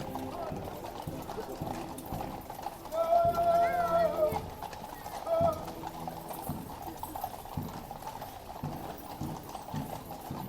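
Hooves of Horse Guard cavalry clop in a steady rhythm on hard ground, accompanied by a brief whinny and crowd noise with people talking nearby.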